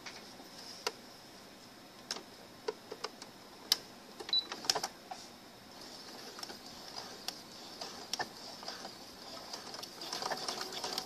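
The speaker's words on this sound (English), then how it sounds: "I just fold over just a little bit, and then I sew straight across here." A sewing machine stitches across folded ribbon ends for a pillowcase dress, producing faint rapid ticking and sporadic clicks that build into a softer continuous whir near the end.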